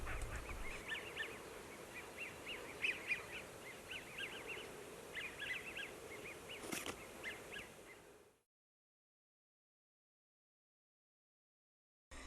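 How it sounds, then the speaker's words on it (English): A male American wigeon gives repeated high, slow whistling calls at a lakeside in southern New Mexico, faint and distant over soft background noise, then silence. "The males often make a slow, high-pitched three-note whistle."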